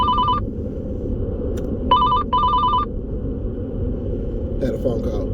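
A telephone bell rings in short electronic bursts, one ring then two quick rings, moderately loud over a constant low rumble, with a brief faint chirp near the end.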